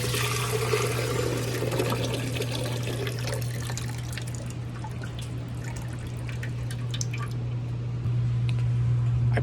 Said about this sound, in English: I poured my hot water directly into the evaporator.